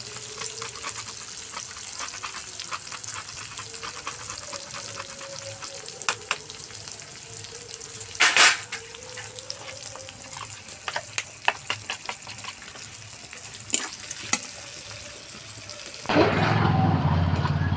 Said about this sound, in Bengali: আদা কাঁচা লঙ্কাটা ভাজা ভাজা হয়ে গেছে